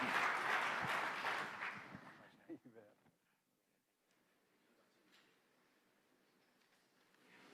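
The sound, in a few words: audience applause at a conference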